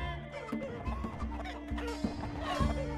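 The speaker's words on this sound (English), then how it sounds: "Okay, I hear the chickens." Chickens in the battle game TABS cluck in a busy cluster, repeated short clucks and squawks overlapping close by with no speech.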